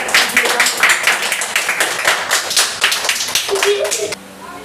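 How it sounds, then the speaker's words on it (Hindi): Audience at a quiz competition applauding the winner, rapid close hand claps from several people for about four seconds, ending abruptly into quiet room tone with a brief voice. "आप लोग जोरदार ताली से उनको स्वागत कीजिएगा"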